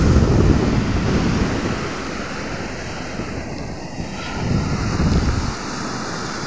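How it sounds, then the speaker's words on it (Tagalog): Stormy waves surge on a fast-rising river at Bucana, a loud, continuous broadband roar of churning water that swells and eases in strength, with no voices over it. "sa idilap lang, laki agad ng alon, obi agad ng tubig"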